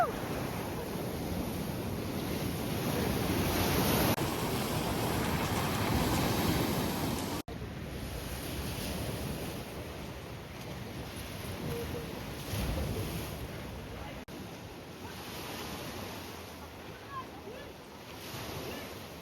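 Ocean waves crash and wash continuously with wind buffeting the microphone, loud and close, rolling in and out with no speech, on the coast at Tipaza.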